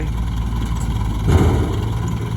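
A tuk-tuk engine idles loudly close by on a dirt track, with a brief rev in the middle, its low rattling putter continuing steadily throughout.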